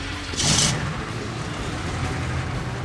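A roughly 1,000-horsepower sand dragster engine idles at about 650 RPM at an outdoor car show, a steady low rumble running throughout with a brief brighter burst near the start.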